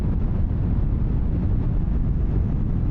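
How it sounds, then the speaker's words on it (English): Steady roaring wind buffeting the microphone while riding a 2024 Indian Scout Bobber Sixty motorcycle at cruising speed, a dense low rumble filling the whole stretch without break. "There's a good amount of wind."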